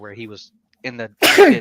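A man sneezes once, loud and sharp, right after a few spoken words in a casual film review conversation.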